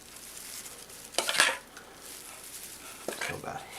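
Salad dressing being mixed, with a few scraping, clinking stirs against a container, quiet between two brief louder bursts of stirring.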